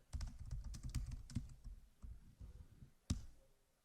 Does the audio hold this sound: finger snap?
no